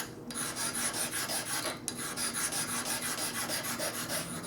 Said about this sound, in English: go ahead and do a little scrubbing action on that stone